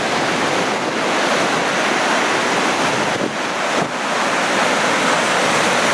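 Ocean waves at Patiti Point at low tide, meeting from two directions along a rugged coast, make a loud, continuous wash of surf mixed with strong wind buffeting the microphone.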